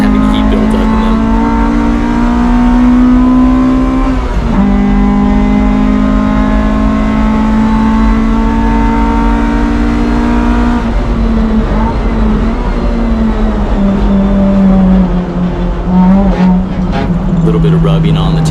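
A 1988 Honda CRX Si race car with a B16A engine laps a track, its engine droning loud and steady with pitch rising and dropping through gear changes and a shudder in a right turn, while a driver talks over it.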